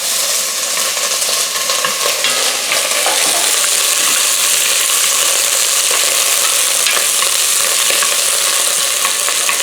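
Frozen chopped onion hits a preheated pot of melted fat over medium-low heat and crackles in a loud, continuous sizzle, with scattered pops and stirring scrapes close by.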